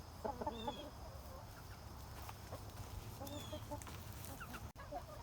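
Bantam chickens in a mixed backyard flock cluck and murmur softly at a distance, with scattered higher calls over a low steady outdoor hum.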